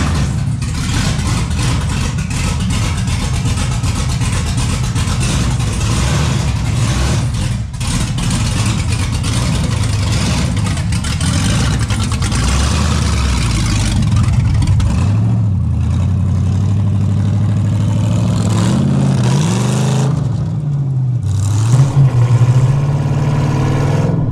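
An LS-swapped Ford LTD with an open rear end runs on its first test drive along a slick road, its V8 engine rumbling and revving steadily up close for a long stretch, then easing toward idle near the end.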